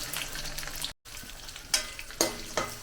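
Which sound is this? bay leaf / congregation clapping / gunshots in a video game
bay leaf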